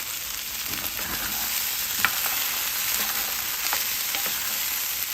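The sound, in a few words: stirring green chile stew in cast iron pan with spoon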